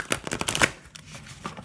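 Tarot cards being shuffled up close, a quick flurry of riffling flicks followed by softer sliding, brief and fairly loud with no talking.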